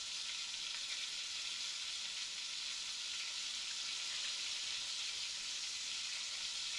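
Southern fried chicken sizzles and crackles in hot oil, a steady dense hiss that stays even and fairly quiet throughout with no voices.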